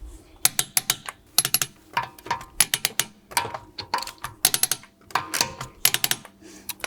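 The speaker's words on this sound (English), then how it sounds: "we're going to torque the wheel with a 17mm socket and a 1/2-inch torque wrench to 120 Newton meters" Torque wrench with a 17mm socket and 1/2-inch drive tightening a wheel on an Audi B9 A4, rapid ratcheting clicks in repeated bursts, close and crisp with brief gaps between strokes.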